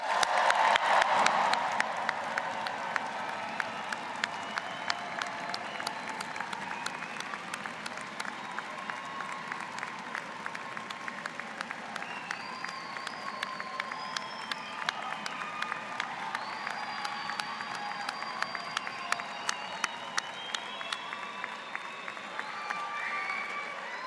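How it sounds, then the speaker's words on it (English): An audience at a spring university convocation applauds and cheers for the graduates, a steady wash of clapping that starts loud and eases into sustained, fairly distant applause with scattered whoops. "So let's cheer for the graduates."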